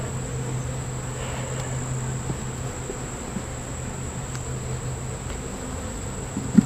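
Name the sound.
honeybees buzzing at the entrance of a nuc hive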